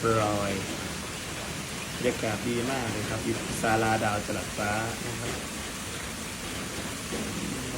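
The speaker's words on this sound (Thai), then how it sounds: "ฝนตกปล่อยๆครับนี่" Steady rain pours down around a sheltered pavilion, a constant hiss of falling water heard beneath someone talking throughout.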